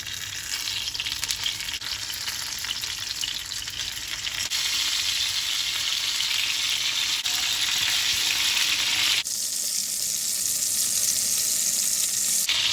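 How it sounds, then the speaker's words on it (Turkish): Loud, continuous sizzling and crackling of eggplants frying in hot olive oil, steady throughout with a brief shift in texture near the end; no voices. "Patlıcanları alalım, kızartmaya başlayalım. Çevire çevire dört bir yanını kızartalım."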